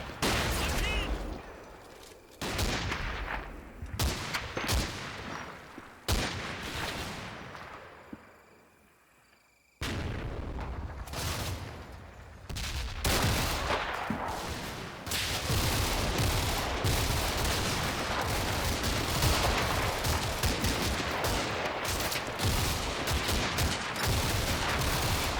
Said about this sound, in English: there are risks to having a mortar barrage landing so close to my own infantry attack